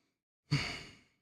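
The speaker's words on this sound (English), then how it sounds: "Why am I breathing hard?" Heavy breathing after standing up from a seated streaming session: a single close, audible exhale-like sigh that starts abruptly and fades over about half a second, alone in a quiet room.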